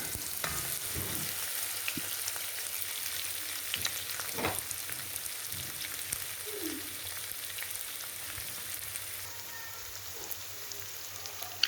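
Garlic and Worcestershire sauce fry in a pan for an onion risotto, giving a soft, steady sizzle with a few faint stirring clicks and no talking.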